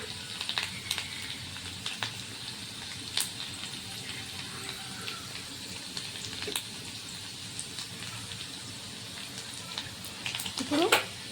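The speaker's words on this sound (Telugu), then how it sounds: "గార్లిక్ అనేది ఫ్రై అవ్వాలి." Garlic fries in a pan with a soft, steady sizzle at fairly low volume, broken by occasional sharp clinks and scrapes from a utensil, with a brief rising squeak near the end.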